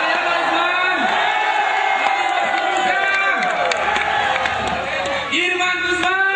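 A large crowd at a Democrat party convention in Medan cheers, whoops and shouts loudly and continuously, with a dense wall of voices.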